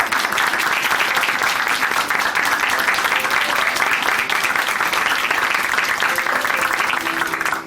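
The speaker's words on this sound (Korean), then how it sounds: "다시 한번 한우진 형제님께 큰 박수 보내드릴게요." Church congregation at Chuncheon Hanmaeum Church gives a testimony guest steady, loud, sustained applause, many hands clapping densely and evenly throughout before it begins to fade at the end.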